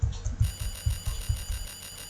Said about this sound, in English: I woke up to the noise of my alarm clock going off and reached over to shut it off.